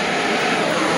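A handheld torch flame roars with a steady, loud hiss as it heats a brass piece in a workshop, a continuous broadband rush with no breaks.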